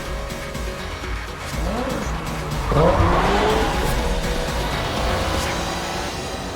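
Race car overtaking another at a corner in a racing game, engine rising and falling as tires squeal and skid loudly, a sustained screech building around the middle and carrying through to the end.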